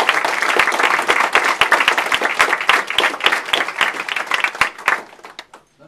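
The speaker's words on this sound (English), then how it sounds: "Please give him a round of applause." An audience applauds for Congressman Fattah at a National GEAR UP Day event, many distinct hand claps ringing out close and loud, then thinning and tapering off to a few last claps.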